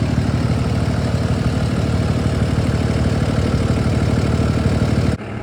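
The Cummins engine of a 2018 International DuraStar 4300 26-foot box truck idles with a loud, steady, low diesel rumble and rapid even pulsing, close by, cutting off abruptly near the end.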